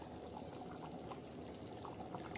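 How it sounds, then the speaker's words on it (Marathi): Hot water is poured into a pan of spicy black-masala goat head curry, a steady, soft splashing pour lasting a couple of seconds with no voices. "आता हे थोडंसं गरम पाणी आपण त्याच्यात टाकणार"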